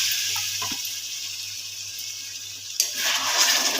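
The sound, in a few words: hot water poured into cooking masala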